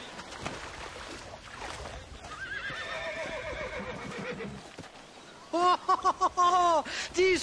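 Horses in Red Dead Redemption give two whinnies during a river raft scene, a softer wavering one partway through and a louder, closer neigh near the end, over a rumbling game background.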